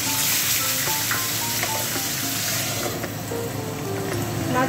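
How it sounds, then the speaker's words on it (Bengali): Fish sizzle and crackle in hot oil, a steady close frying hiss with brief higher pops and faint stirring, no talk over it. "এই যে তেলটা গরম হয়ে গেছে দেখুন, এবার আমি মাছগুলো দিয়ে ভেজে নেব"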